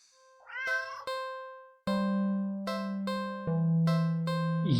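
A cat meows in a video game, a long wavering mew followed by a short chirp, then sustained bright harmonic tones ring out steadily and loudly with no talk over them.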